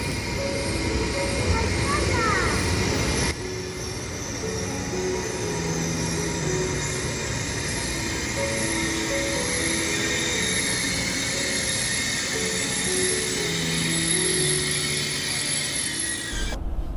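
A Chinese high-speed train pulls into a station, a steady loud rumble and rolling rail noise filling the platform for the whole stretch, with brief voices in the background.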